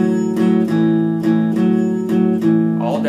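An electric guitar plays a blues shuffle in A with all down picks on two strings, a steady swung rocking chord pattern repeating clearly and close, with no talking.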